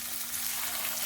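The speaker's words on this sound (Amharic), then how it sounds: "እንደዚህ ችስ የሚል ድምጽ ሲያሰማ ቺክናችንን ላይ እናደርጋለን" Chicken sizzling as it fries in a hot pan, a steady close hiss of frying throughout with no talking.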